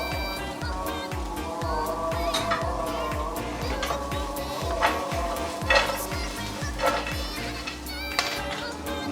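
Sri Lankan capsicum stir-fried for devilled soy meat in a pan, sizzling steadily throughout with repeated scraping stirs and clinks of a utensil, close and fairly loud.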